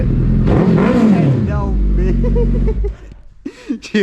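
A Suzuki Hayabusa fitted with a Brocks exhaust revs loudly and close by, the engine rising and falling in a deep sweep before cutting off, while people talk over it.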